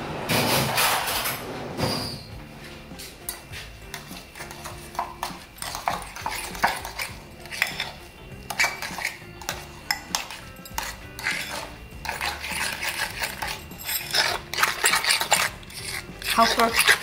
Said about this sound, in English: Now I'll give it a gentle mix.